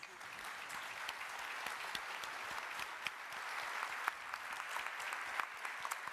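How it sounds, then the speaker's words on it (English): A breakfast-panel audience claps for the panelists, moderately distant, sustained applause with a few sharper individual claps standing out. "applause for our panelists"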